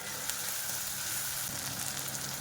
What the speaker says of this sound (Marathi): छानपैकी टोमॅटो आणि कांदा परतून घेऊयात।